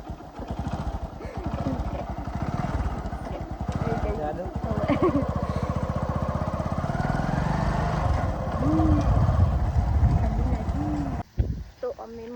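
A motorcycle is ridden toward a lakeside temple at dusk, its engine a steady, close droning hum with slight rises and falls. Voices talk over it and it stops near the end.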